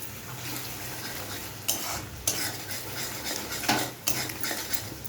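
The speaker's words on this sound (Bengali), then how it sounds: "এবার এগুলোকে নাড়িয়ে নিতে হবে" Ground chili, coriander and cumin powders are stirred in a frying pan for a duck egg curry, giving steady scraping with a few louder utensil knocks against the pan over a low sizzle.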